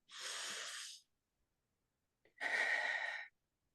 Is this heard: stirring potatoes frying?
no